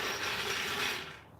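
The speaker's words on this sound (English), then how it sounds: "we're ready to finish loosening the rest of these lug nuts" A wrench loosens lug nuts on the wheel of a 2009 Nissan Altima coupe, a continuous close ratcheting clatter that runs about a second before fading out.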